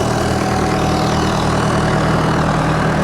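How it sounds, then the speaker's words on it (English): Bulldozer and backhoe diesel engines idle together at a ditch work site, a steady, loud low rumble with a constant hum and no pauses. "Got the dozer running, backhoe running."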